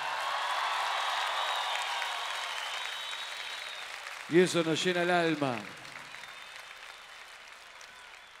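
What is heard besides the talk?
concert audience applauding at Movistar Arena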